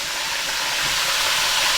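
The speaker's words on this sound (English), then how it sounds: "So we're going to flip our steaks real quick." Steaks sizzle in a frying pan after being flipped, a dense, bright, continuous hiss that holds steady and swells slightly toward the end, with no talk over it.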